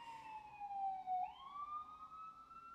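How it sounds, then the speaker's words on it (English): Emergency vehicle siren wailing steadily in the background for the whole stretch, its pitch swooping down then rising again, moderately loud with no speech over it. "sorry about the sirens, guys. Gonna talk over it."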